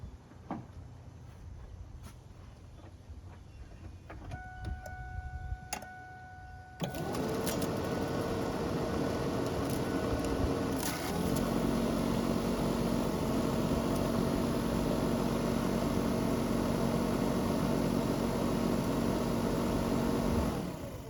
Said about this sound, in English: We have a working blower motor.